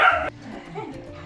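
Dogs at mealtime give a short, loud yipping bark that cuts off abruptly, followed by quieter whimpering and low household murmur close by.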